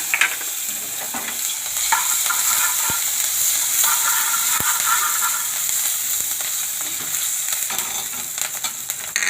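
Ginger and green chillies frying in oil in a pan on low heat alongside fennel seeds, a continuous loud sizzle with repeated scrapes and clicks of a spoon stirring throughout.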